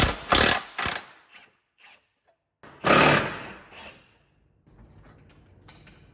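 Impact tool loosening front subframe bolts on a Mazdaspeed 6 suspension job, loud rattling bursts of varying length with short pauses between, then fading to a lower mechanical rumble.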